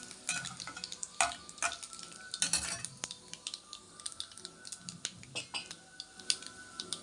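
Lentils being stir-fried in a pan, with repeated close scraping and clattering of a spatula against metal over a soft, faint sizzle, in irregular bursts.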